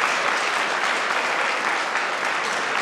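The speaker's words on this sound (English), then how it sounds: "Please have a big round of applause." An audience applauds a shot put gold medal winner at a college athletics event, dense steady clapping at moderate loudness for a few seconds.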